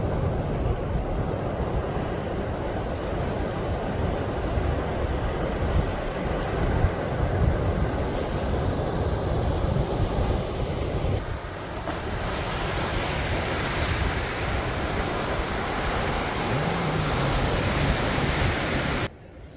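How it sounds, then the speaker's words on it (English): Waves stirred up by a passing Coast Guard boat wash in steadily toward the shore of Lake Michigan in Door County, Wisconsin, a continuous rushing surf with wind buffeting the microphone and no talking. "There was what looked like a Coast Guard boat that went by, and it created these waves out here coming toward us."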